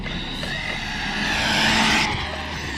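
An Erevo 2.0 RC car on a speed run gives a continuous high-pitched motor whine that swells and peaks midway, then eases slightly, loud and fairly close.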